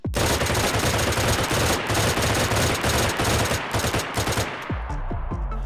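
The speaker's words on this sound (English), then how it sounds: "Burst fire is the fastest the M16 fires, which will vary in RPM as you have to continuously tap the fire button in these 3-shot bursts." M16 rifle firing rapid three-round bursts in the game DayZ, loud sharp gunfire repeating back to back, then a few spaced shots trailing off at the end.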